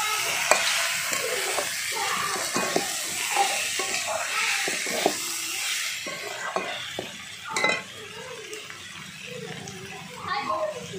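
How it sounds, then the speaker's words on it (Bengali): Shrimp and figs stirred in a pan, with a spoon scraping and clattering against the metal over a soft sizzle, close and fairly steady, while someone talks over it. "আর ভেজে রাখা চিংড়ি মাছগুলো দিয়ে দিলাম। দিয়ে ভালো করে নেড়ে নিচ্ছি।"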